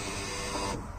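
Electric window motor in a Mazda Bongo van after a repair, a steady loud whirring hum from close by that drops off slightly near the end, with no voices.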